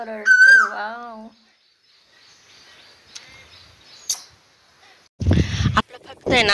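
Clear, melodic bird calls ring out nearby in open countryside near farmland, a short run of whistled notes at the start. Quieter ambience and a few faint chirps follow, then someone talks toward the end.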